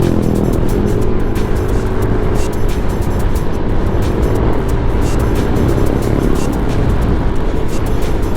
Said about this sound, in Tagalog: Oops, truck. Truck.